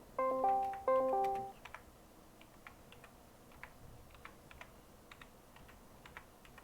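Someone types on a computer keyboard, a quiet run of light, scattered clicks that follows two short electronic chime notes at the start.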